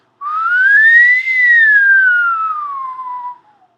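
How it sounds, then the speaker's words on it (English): One loud, clear whistled note, close and alone, sliding up in pitch, then gliding slowly down before fading out. "So I'm just going to whistle here"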